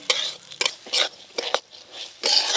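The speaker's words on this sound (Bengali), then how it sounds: "ঘি, মুগ ডালটা ভালো করে ভেজে নেবো।" Mung dal frying in ghee and being stirred in a pan, heard as short bursts of scraping, stirring and soft sizzle in quick irregular strokes, close and fairly quiet.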